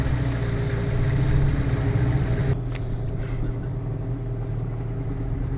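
A motorboat carries passengers along the Amazon River near Manaus, Brazil. Its engine drones loud and steady with rushing water and wind noise, and the pitch drops partway through as the throttle eases.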